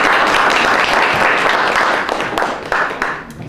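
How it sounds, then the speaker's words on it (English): Sustained applause and clapping from a school audience at a girls' school business plan competition, dense and loud throughout before easing toward the end. "I first just want to start off by giving them a round of applause for being here today"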